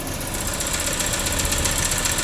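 A 1987 BMW E30 with its M10B18 four-cylinder engine idling once warm, a steady, close, even hum with a faint rhythmic pulsing and no voices.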